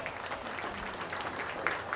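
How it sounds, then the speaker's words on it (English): Crowd at a county fair 4-H/FFA beef show claps for young kids who showed feeder cattle; moderate, even applause with faint background noise. "If you would give these young kids a round of applause for bringing out a nice set of feeders"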